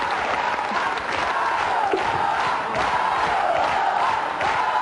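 A studio audience cheers and applauds the Star Academy 4 performers, a loud, continuous mix of crowd shouts and clapping with a voice-like tone sustained through the roar.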